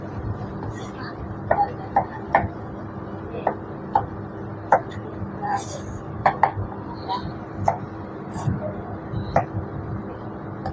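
Knife chopping vegetables for a continental-style mixed salad: light, irregular taps on a board, close and crisp, beneath a soft speaking voice.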